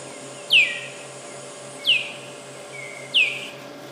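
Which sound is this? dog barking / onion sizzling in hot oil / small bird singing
small bird singing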